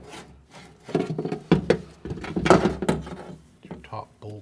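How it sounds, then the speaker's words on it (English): Scraping, rubbing and clunking as a rear window regulator is slid and worked into the door of a 2012-2016 Honda CR-V, in uneven bursts close by. "Take your window regulator, slide it into the door."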